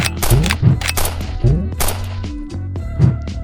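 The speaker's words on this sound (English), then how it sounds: "Now these gunshots are basically" Loud bursts of game-style gunfire with punchy booms and bright cracks, layered over music and effects, rapid and dense.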